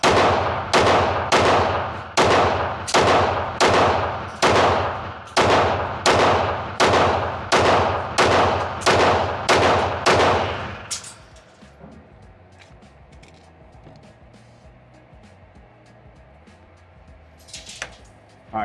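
A Fusion XP Pro pistol fires about fifteen loud, close shots in a steady, evenly spaced rhythm roughly two-thirds of a second apart, followed by quiet handling noise.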